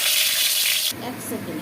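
Potatoes sizzle in hot oil in a pan while skate fish is being cooked, a steady bright frying hiss that shifts partway through, with a voice speaking briefly over it.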